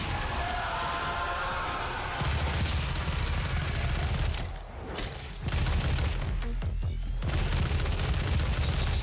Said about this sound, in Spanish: Cojamos la ametralladora.